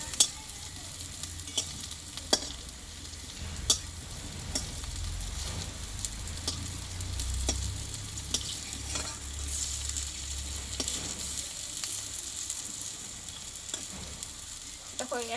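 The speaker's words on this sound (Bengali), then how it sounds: "এইভাবে উল্টিয়ে পাল্টিয়ে ভেজে নিতে হবে" Red lentil fritters fry in a pan of oil with a soft, continuous sizzle, broken by sharp clicks and scrapes as they are stirred and turned, fairly quiet and close.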